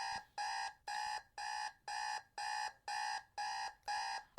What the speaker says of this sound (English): I can hear the buzzing of my alarm going off